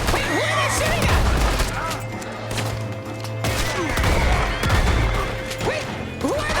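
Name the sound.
gunfire in a video game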